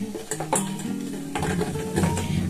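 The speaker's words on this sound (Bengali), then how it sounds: "এগুলোকে আমি এখানে দিয়ে দেবো চিনির রসের মধ্যে।" Fried khaja pastries are dropped into sugar syrup in a pan, giving close clatters and knocks of utensils against metal with a soft sizzle beneath.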